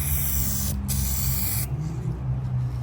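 Clear coat sprayed from a can onto painted R32 brake calipers: a steady close hiss with a brief pause just under a second in, then a second spray burst that trails off softer.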